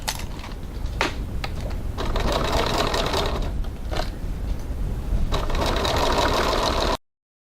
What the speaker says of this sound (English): Just hold your thread pieces so they don't bunch up behind your work. And stitch.